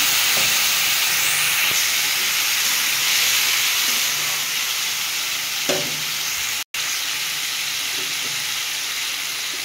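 Fried potatoes in a pan hiss and sizzle loudly after water is splashed in, a continuous steamy roar with a few stirring scrapes and a brief dropout.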